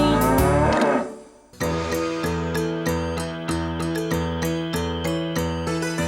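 Cattle mooing in a children's animal song, one long loud moo at the start, then a bright melodic musical backing with repeated plucked notes and no singing.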